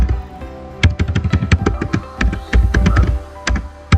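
Someone types on a computer keyboard, a close, crisp run of irregular key taps and thunks with short pauses between bursts, heard alone without any voice.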